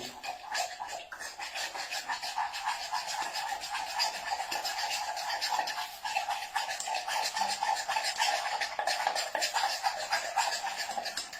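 Steady scraping and stirring of a utensil through melted chocolate in a metal saucepan, a continuous rhythmic rasping up close with no voices.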